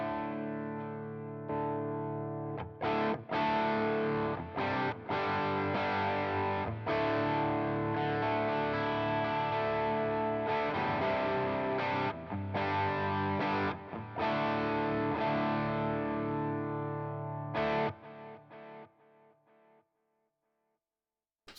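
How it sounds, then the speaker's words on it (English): Electric guitar driven through a Strymon Sunset pedal set to its Klon-style germanium drive, playing a loud, saturated run of chords and riffs with sharp stabs and brief pauses before fading out to silence. "And set to the clon style germanium drive"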